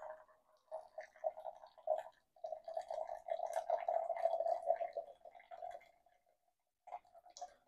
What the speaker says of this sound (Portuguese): A gente coloca a água aqui primeiro.